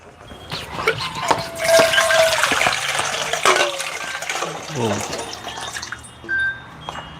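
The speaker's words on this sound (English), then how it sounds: "I'll put some water in this bowl" Water is poured into a bowl in a home kitchen while coconut milk is being made, giving a steady splashing, gurgling fill that rises and fades over several seconds. The sound is close and fairly loud.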